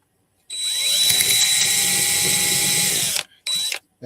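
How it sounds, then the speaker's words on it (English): A power drill bores a tiny hole while finishing a pintle and gudgeon for the ship Lady Washington. A loud, steady whine holds for nearly three seconds, stops abruptly, then returns in one short burst. "let's drill one more little tiny hole"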